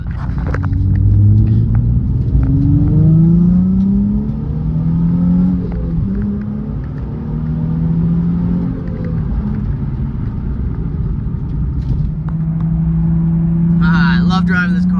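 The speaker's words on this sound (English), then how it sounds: "I love driving this car. It's so much fun." A car engine drones steadily in fifth gear at autobahn or freeway speed, its pitch rising and falling through shifting tones, while a voice speaks over the rumble.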